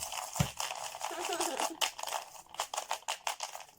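Paper slips mixed by hand, a dry rustling and crinkling with sharper crackles, close and fairly quiet, continuing in irregular bursts.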